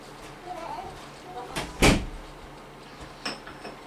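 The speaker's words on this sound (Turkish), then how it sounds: "Kapıyı çek anne." Indoors, a door is pulled shut with one short, solid thud that rises above a quiet room murmur, with faint voices before and after.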